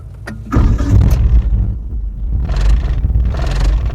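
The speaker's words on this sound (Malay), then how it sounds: "Aku start engine eh" A car engine cranks with a brief starter whir, then catches and settles into a loud, close rumbling idle with a slight rev.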